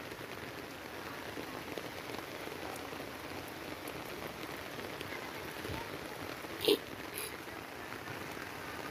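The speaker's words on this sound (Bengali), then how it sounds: "প্রচুর পরিমাণে বৃষ্টি।" Rain falls steadily on surfaces during heavy downpours and flooding in Noakhali, a soft, even hiss heard from outdoors, broken once by a brief sharp knock.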